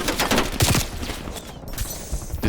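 Dense, rapid gunfire from a PlayStation 5 shooter game crackles in close, continuous volleys with sharp repeated bursts.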